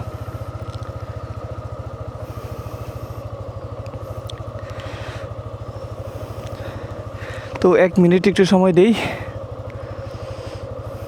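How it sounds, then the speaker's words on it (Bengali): A motorcycle engine idling in neutral on a winter morning, a steady close low thumping putter throughout while someone talks briefly near the end. "স্টার দিলাম নিউট্রাল অবস্থায় আমি কিছুক্ষণ রেখে দেব"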